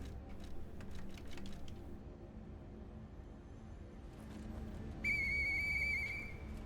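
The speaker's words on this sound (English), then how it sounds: "I can activate it and actually blow the whistle" A whistle is blown in the video game Lies of P: a bright, steady tone lasting over a second near the end, after quiet game ambience with soft clicks.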